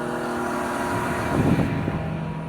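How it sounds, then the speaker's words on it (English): A rubber-tired loader's engine runs with a steady mid-close hum that swells briefly partway through the short stretch, with no voices over it. "this is the rubber tire loader"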